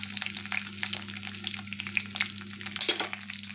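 Fresh coriander leaves dropped into a hot spice tempering of bloomed cumin and curry leaves, sizzling and crackling steadily with a close, bright frying hiss and a louder burst near the end, with no talking.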